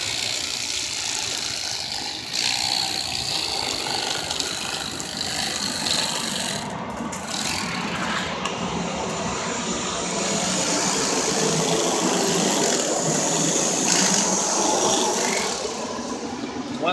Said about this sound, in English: But Alvin, here it is with the electric knife.